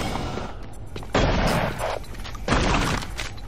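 Gunfire from Doom 3 BFG Edition on Xbox 360 comes in two loud, close bursts of rapid shots with a short gap between them, over a low background hum.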